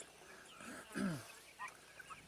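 Backyard flock of Wyandotte chickens mingling with turkeys, giving a couple of short, close gobbling and clucking calls over quiet outdoor background.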